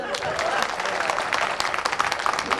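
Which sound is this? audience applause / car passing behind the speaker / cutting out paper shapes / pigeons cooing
audience applause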